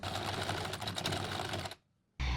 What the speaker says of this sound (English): I am sewing above my pins, and this might not be the best option.